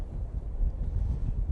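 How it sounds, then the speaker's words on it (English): Gusty wind buffets the microphone outdoors at Manchester Airport, a steady low rumbling roar with no voices, as the afternoon turns breezy with gusts forecast near 27 to 28 mph. "It just starts to get a little breezy."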